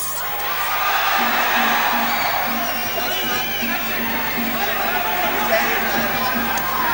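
A Muay Thai fight crowd cheers and whoops throughout, a dense, steady roar of voices and shouts with scattered loud calls rising above it.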